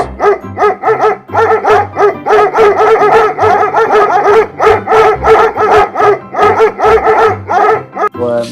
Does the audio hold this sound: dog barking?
yes